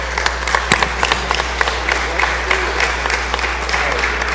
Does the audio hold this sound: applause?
yes